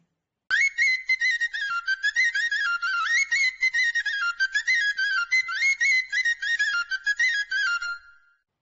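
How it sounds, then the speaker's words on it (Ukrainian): A bright Ukrainian sopilka folk flute plays a lively, bouncy melody with quick repeated notes, steady and clear with no voices. "послухайте, як воно весело грає на сопілці."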